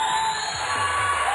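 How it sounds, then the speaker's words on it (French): A TV studio audience at a 1992 French children's game show cheers and applauds a contestant who wins a games console, a dense, continuous burst of clapping and shouting voices. "On applaudit Julien qui remporte une console offerte par Micromania."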